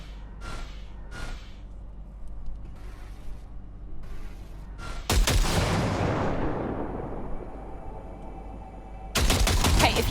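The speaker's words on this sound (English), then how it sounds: "See that pile of junk? Fire a short burst into it." Short bursts of gunfire fired into a junk pile in Cyberpunk 2077, opening with a few faint shots and creaks, then a loud rapid burst with a long decaying tail and a second loud burst at the end.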